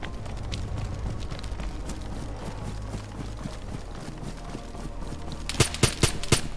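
Gunfire in the video game DayZ on the Namalsk map, with a rapid cluster of sharp, loud shots near the end, rising out of a steady bed of in-game ambient noise.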